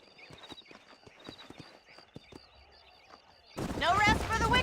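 Horse hooves in the video game Red Dead Redemption, a string of crisp clip-clop strikes over a thin tonal backdrop, before a louder burst of game sound takes over near the end.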